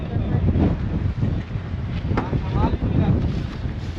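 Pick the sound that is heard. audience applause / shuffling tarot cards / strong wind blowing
strong wind blowing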